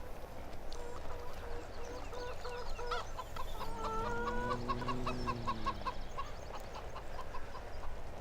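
Chickens in Farming Simulator 17 cluck repeatedly with a rooster-like call in the middle, fairly close, over a steady background with no talking.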